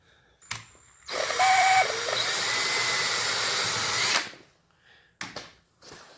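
A power drill with a 1/8 inch bit whirs steadily for about three seconds, boring a vent hole through a plastic gas can, then stops; a few clicks and handling noises follow.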